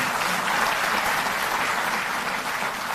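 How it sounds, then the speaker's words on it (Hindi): An audience claps loudly and steadily at a Delhi government event for Jal Board employees being made permanent. The dense crowd clapping holds throughout without pause. "सभी लोग जोरदार तालियों से अपना सहयोग देंगे"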